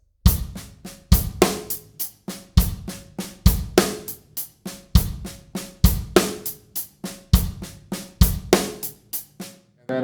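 Drum kit paradiddle groove with the bass drum landing on the first two hi-hat notes, a steady, continuous pattern of loud, crisp snare and hi-hat strokes repeating in a tight rhythm throughout.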